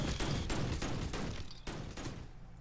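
Rapid bursts of gunfire hitting defensive turrets in Starship Troopers: Terran Command, a quick string of sharp reports that thins out toward the end, fairly faint and with no talk.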